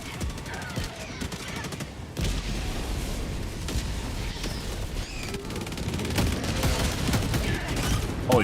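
Heavy automatic weapon fire in the co-op shooter Helldivers 2 on a high difficulty mission, loud and continuous bursts with booming impacts layered over a busy battle din.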